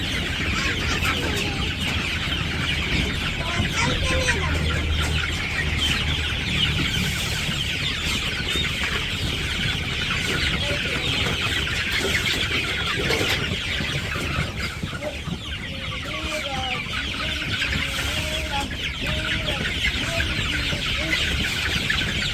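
A flock of about 500 chickens cluck and chatter continuously close by, with overlapping calls over a steady background hum.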